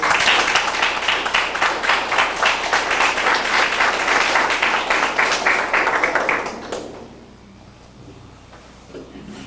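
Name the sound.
audience applause for three guests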